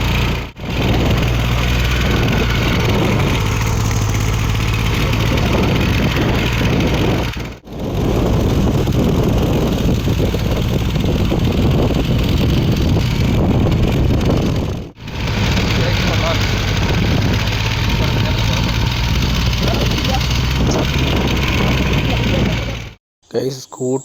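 A small scooter engine labours steadily uphill on a steep hill road with two riders aboard, a loud, continuous mid-pitched drone mixed with wind buffeting the microphone. It drops out briefly a few times.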